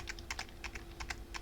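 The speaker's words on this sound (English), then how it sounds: "segment here of just keyboard sounds" Computer keyboard being typed on, a quick irregular run of crisp key clicks at close range, fairly quiet, with no talking.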